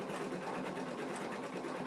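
A sewing machine runs steadily and close up at a constant, fast hum for the whole short stretch, with no voices.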